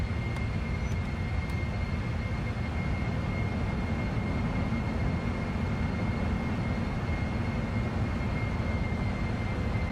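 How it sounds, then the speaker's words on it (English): Airliner engines in the Prepar3d flight simulator during the takeoff roll and climb, a steady loud low roar with a thin high whine running through it, continuous and unchanging. "Talk about a short rolling takeoff."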